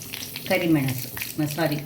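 Mustard seeds dropped into hot coconut oil for a Mangalorean mango pulimunchi sizzle and crackle in short bursts close by, heard under a voice talking.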